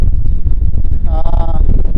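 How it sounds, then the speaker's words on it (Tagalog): Strong wind buffets the microphone outdoors during a fishing trip, a loud continuous rumble with a brief tonal whine in the middle. "ang lakas ng hangin"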